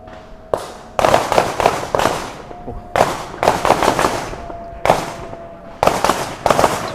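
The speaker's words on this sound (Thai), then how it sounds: "นี่นะครับที่ยิงไปนะ" A Mossberg 940 Pro Tactical shotgun fires a rapid series of loud, sharp blasts outdoors, several shots close together with short pauses between groups, each crack echoing briefly.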